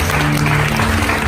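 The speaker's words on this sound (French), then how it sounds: "Je vais demander d'applaudir très très fort" Audience at a singing competition semi-final applauds loudly, a brief dense burst of clapping throughout.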